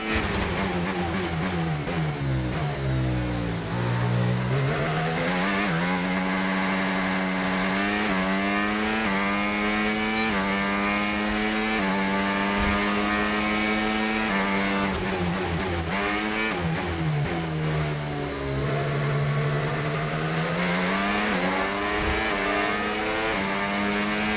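High-revving racing car engine in the F1 25 video game, a continuous loud whine sweeping up and down through gear changes over a lap, with no talk.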